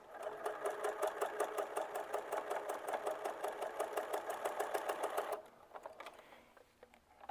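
Sewing machine stitching a triangle quilt block, a fast steady mechanical chatter running for about five seconds before stopping, followed by a few faint handling clicks.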